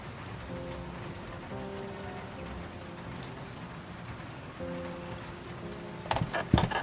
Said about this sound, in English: The rain beats against the office window.